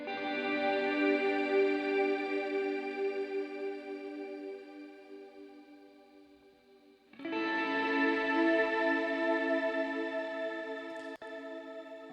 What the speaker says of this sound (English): So this is the Valhalla Shimmer, which is obviously a shimmer reverb